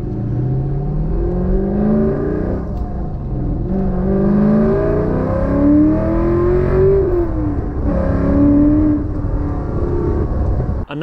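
C5 Corvette engine with 1 7/8 long-tube Hinson headers and an off-road X-pipe, revving up and down in smooth rising and falling sweeps, loud and close throughout.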